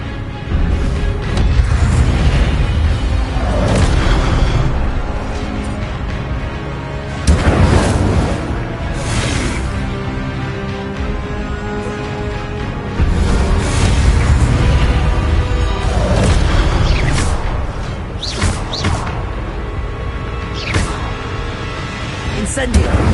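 Incendio fire spell from Hogwarts Legacy, cast repeatedly in a magical duel: booming fiery bursts land every few seconds, loud and close, over a constant rumble of combat, with a voice shouting.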